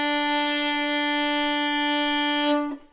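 A single sustained bowed string note, bright and steady, ending abruptly after a few seconds.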